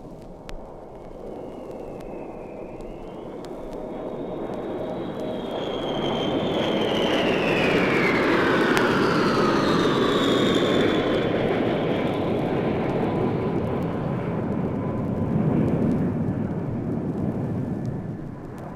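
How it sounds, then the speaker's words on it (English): Six giant B-52 Stratofortress bombers fly by in close formation, a loud, sustained jet roar that swells toward the middle and holds, with whining engine tones sliding downward as the aircraft pass and recede. "let's listen now to 6 giant B-52 Stratofortresses flying by in close formation"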